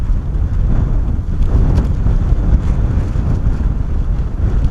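Strong gusty wind buffets the microphone at Bristol Airport during 35-knot winds, a loud continuous low rumble that swells and eases throughout, with no talking.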